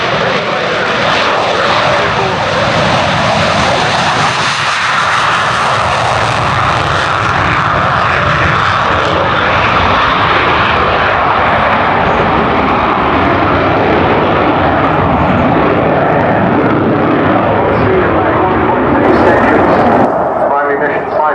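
A British military jet roars past at Culdrose Air Day, a loud, sustained engine rush that fills the whole stretch, with a commentator speaking over it.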